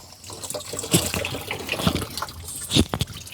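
Water splashes and gushes onto garden plants while a younger sibling helps an older sister water them, a close, continuous pouring with uneven surges and no speech.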